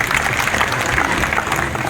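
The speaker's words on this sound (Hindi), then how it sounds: "मंच पर उपस्थित सभी रण बाकुरों के लिए जरा जोरदार तालियां बजा दीजिए" Crowd applause at an outdoor village ceremony honouring soldiers, a dense, continuous burst of many hands clapping, loud and sustained for the whole stretch with no voice over it.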